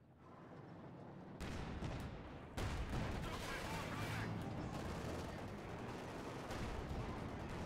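Rifle fire from guards in a World War II real-time strategy match with Wehrmacht forces and T-34 tanks, a dense, continuous crackle of shots and battle noise that stays loud throughout, with a sharper burst partway in.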